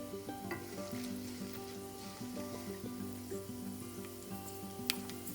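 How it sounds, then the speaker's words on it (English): Mustard seeds, black peppercorns and methi seeds crackle and sizzle in hot oil in a pan, a steady faint frying hiss with small pops throughout and no voices. "When the mustard starts cracking, you can add 1 teaspoon of black peppercorns and then 1 teaspoon of methi seeds."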